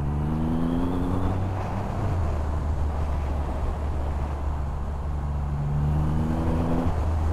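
A Triumph Rocket 3 R motorcycle engine pulls hard under acceleration, a deep continuous roar with rising and falling pitch as revs climb and shift, loud and close throughout.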